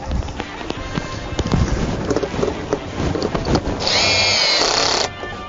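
A wrench tightens bolts into a tire for a tire-art piece, giving repeated clicking and scraping strokes, with a steady ratchet-like buzz toward the end.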